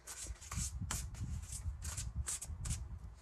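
Oracle cards shuffled and handled by hand for a card reading, a soft continuous papery riffling with repeated brighter flicks, close and fairly quiet, with no talk.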